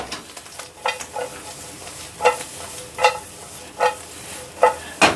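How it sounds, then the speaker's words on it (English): Carrots seasoned with shichimi, pepper and salt sauté in a pan in a tiny Japanese home kitchen: a soft steady sizzle with a sharp stirring scrape about every second, close and moderately loud. "now we're sauteing carrots and a little shichimi and pepper and salt"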